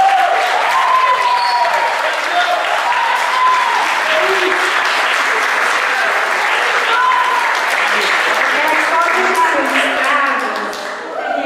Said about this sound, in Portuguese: Mas uma salva de palmas para todos.